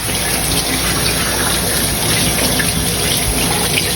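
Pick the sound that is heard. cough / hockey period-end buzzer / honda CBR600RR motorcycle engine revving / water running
water running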